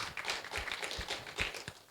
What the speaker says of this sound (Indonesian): Boleh tepuk tangan buat Resi ya.